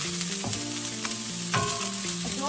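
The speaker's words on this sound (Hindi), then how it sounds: "2 मिनट फ्राई कर लेते हैं" Carrot and green capsicum fry in a pan with a steady, loud sizzle, interrupted by a few stirring clinks and scrapes, with no talking.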